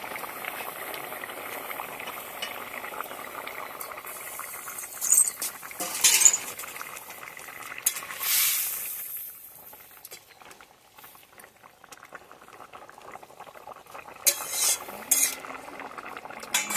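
Hilsa fish slipped into a pot of boiling wild mukhi taro curry, a steady close bubbling simmer with a few brief clinks and splashy bursts as the pieces go in, no voices.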